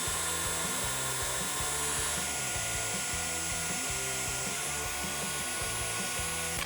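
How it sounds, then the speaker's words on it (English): A power drill with a 7/32 bit whirs continuously in short, repeated bursts, drilling a pilot hole for self-tapping screws on a Ford F150, steady and close, with a high whine underneath. "now we're gonna drill our pilot hole for our self-tapping screws"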